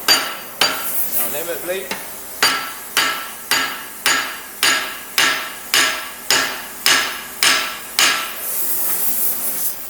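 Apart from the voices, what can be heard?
hammering a rivet on wolf jaw tongs in a vice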